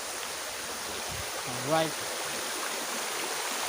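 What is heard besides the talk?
Panindingan Falls waterfall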